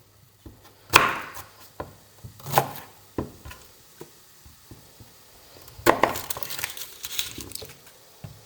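Knife chopping brussels sprouts on a wooden board, a series of uneven sharp cuts and thumps, some louder crunchy strokes among lighter taps, close and with no talking.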